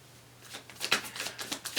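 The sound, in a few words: shuffling a deck of cards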